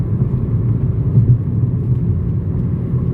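A petrol Ford Focus with a PowerShift dual-clutch gearbox runs at high revs, a steady low engine drone and rumble that holds close and loud throughout with no talk.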